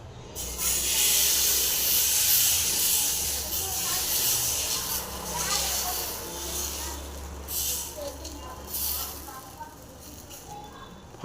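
Dosa batter made from ragi, wheat and rice flour hits a hot pan with a loud, continuous hiss that slowly fades and flickers over several seconds, heard up close without talk.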